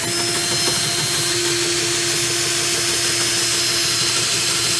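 A power drill whines steadily and loudly at close range while drilling through a truck fender, a constant high motor drone with a grinding edge that never lets up.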